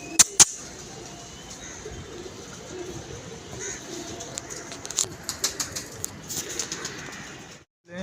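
Pigeons cooing softly in the background, with sharp wing flaps at the start and a run of flutters and clatter toward the end, in a fairly quiet outdoor setting.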